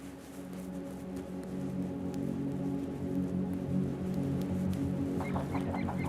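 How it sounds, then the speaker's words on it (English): Seabird chicks and a brooding mother call on a Baltic Sea island, a steady dense chorus of harmonic cries with a sharper run of short calls near the end. "The chicks are hungry and impatient."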